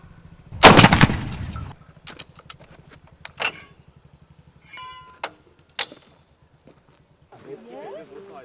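A 6-pounder anti-tank gun fires a single loud, sharp blast with a brief rumbling tail at a D-Day commemoration and 1940s weekend reenactment, followed by scattered clicks and clanks, people talking, and a faint engine toward the end.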